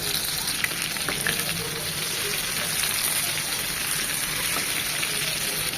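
Tandoori chicken frying in ghee over high heat, a steady loud sizzle and spatter that holds without pause throughout.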